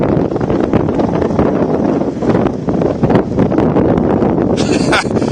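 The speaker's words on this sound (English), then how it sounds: "It is windy, and I do apologize." Strong wind buffets the microphone beside a tidal bore in Truro, Nova Scotia, producing loud, gusty rumbling and flutter throughout, with some voices mixed underneath.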